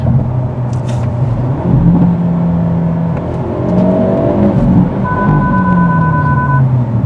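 A Hyundai Elantra N's engine drones and shifts pitch while being driven on track, rising and falling steadily through an attempted downshift, with a brief high tonal whine near the end.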